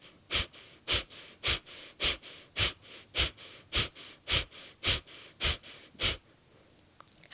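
Eleven sharp, forceful nasal exhale pumps of kapalabhati breath of fire, evenly spaced about every half second, close and breathy with passive inhales between, ending in quiet.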